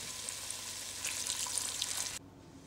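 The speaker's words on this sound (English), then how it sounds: "So while my curry is cooking" Eddo curry cooking in a pot, giving a steady close sizzle and bubbling hiss that runs evenly, then drops to a quieter simmer near the end.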